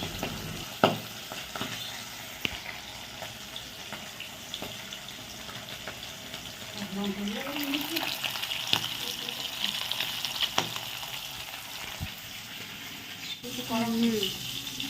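Hilsa fish frying in oil gives a continuous close sizzle with occasional clatter and stirring, joined by a brief faint voice.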